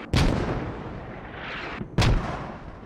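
Two mortar shells slam down close by in the military shooter Squad, each a sharp, booming blast with a rumbling tail, about two seconds apart.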